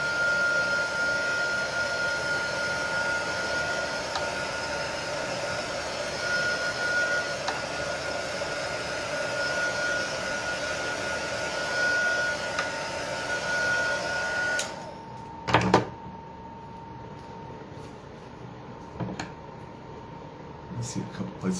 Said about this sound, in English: I'm going to hit this real quick with the heat tool, just to make sure that my ink is set and my mixed media gel is drying.